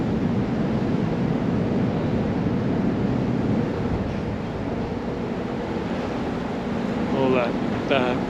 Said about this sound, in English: All the sideways thrusters going to push the boat around.